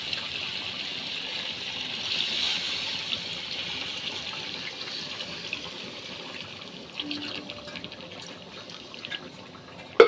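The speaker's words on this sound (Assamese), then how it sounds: "এতিয়া মই পানী ঢালি দিম" Water pouring steadily into frying masala in a pan, a broad rushing splash that holds for several seconds then thins out, ending with a sharp clank.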